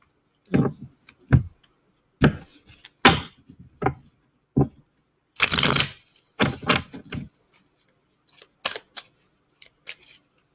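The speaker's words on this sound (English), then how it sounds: "I felt like I needed to shuffle a little bit more." Crisp riffling bursts of tarot-style reading cards, several short shuffles and taps with quiet pauses between, close by and no talking.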